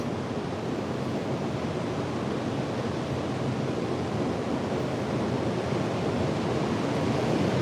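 Ocean surf washes continuously against the shore, a dense, steady roar of broken water with no distinct wave breaks and no voices.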